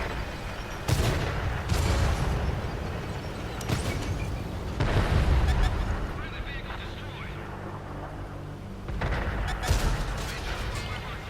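Heavy tank cannon fire booms repeatedly in a World of Tanks battle involving a VK 75.01 (K) and a Type 61 shooting from a hilltop, with several loud blasts spaced through engine rumble and someone talking.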